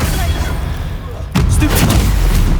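A Bombarda spell explosion from the Hogwarts Legacy video game hits with a sudden loud broadband boom partway through, then rumbles and rings on over steady combat noise.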